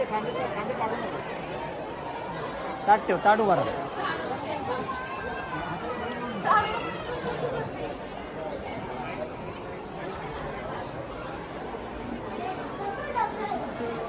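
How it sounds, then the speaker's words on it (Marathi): Dense crowd chatter and babble fill an evening visit to a Chhatrapati Shivaji Maharaj temple in Mumbai, a steady hubbub of many voices with a few louder calls rising above it. "मित्रांनो संध्याकाळचा टाईम झाला आणि बघू शकता किती अरे गर्दी"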